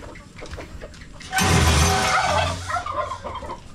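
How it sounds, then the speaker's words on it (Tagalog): A turkey gobbles loudly in the grass at dusk, one burst of rapid rattling calls that rises sharply and fades, with fainter fowl sounds before and after. "Pabo ang malakas sa damo."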